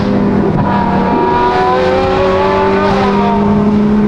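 A Ferrari 812 Superfast V12 driving up into the Alps, loud close engine drone with rising and falling pitch as it revs through the gears, heard from inside the car.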